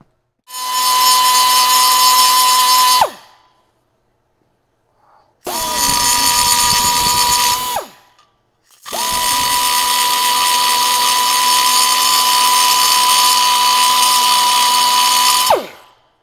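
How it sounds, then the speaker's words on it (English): Angle grinder cutting through a steel vehicle driveshaft in a workshop, three loud sustained bursts of steady high whine, the first about 3 seconds, a shorter one, then a long 7-second run, with silent gaps between and no talk. "then we'll just grab a grinder and call it good"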